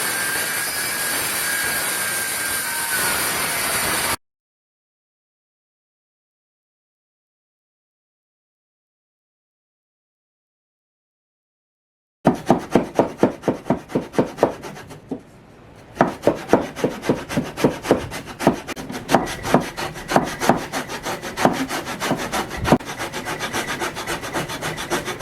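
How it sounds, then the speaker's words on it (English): A jigsaw cuts through a countertop, blade chattering loudly in a rapid buzzing rhythm after a long silent gap, with a brief dip midway before the cutting resumes steadily and near. "So I think I'm gonna have to cut it like slightly on angle in order to get this, because the jigsaw is, it's not making a straight cut."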